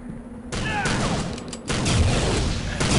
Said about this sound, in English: Except they're shooting at me.